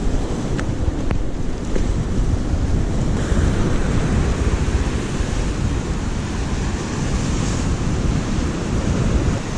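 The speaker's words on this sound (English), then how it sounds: "Waterfall, big sploshy waves." Heavy waves surge and crash in a continuous loud roar at Tresaith Beach, Wales, with gusty wind buffeting the microphone and no voices.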